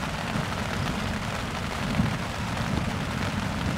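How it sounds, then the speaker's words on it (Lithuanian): Thunder from a lightning strike right beside a tent during a storm, heard as a loud, steady low rumble mixed with rain-like hiss that swells briefly near the middle and carries on throughout. "Blyksnis ir iškart trenkė."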